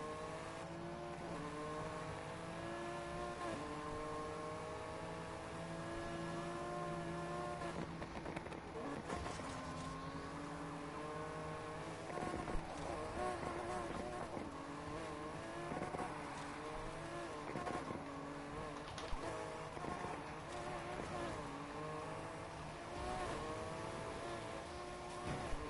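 A racing car's engine drones and revs continuously in the Forza video game on PS5, with rising and falling pitch through gear changes and a steady loud roar, no speech over it.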